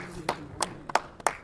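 An audience at a community gathering claps in welcome, heard as five sparse, sharp claps at a slow, uneven rhythm over a quiet background.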